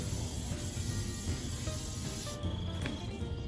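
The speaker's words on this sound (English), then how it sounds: "All we're gonna do is we're just gonna give it a quick dose of cooking spray." Cooking spray hissing onto a hot grill before steak goes on, a continuous broad sizzle and spray hiss close by for several seconds, with no talk.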